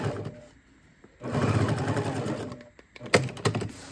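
A sewing machine stitches outdoor chair cover fabric in two close bursts of rapid, whirring needle strokes, separated by a brief pause and followed by a few thunks from handling the fabric.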